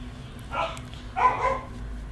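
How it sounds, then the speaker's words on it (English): An indoor dog barks twice, two short mid-distance barks separated by a pause, over a faint steady background hum. "My dog is going crazy."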